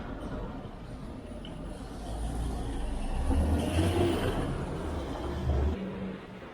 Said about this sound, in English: Go past this truck here, a couple trucks.